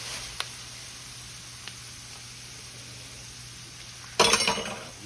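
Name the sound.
roux of flour and fat cooking in a pan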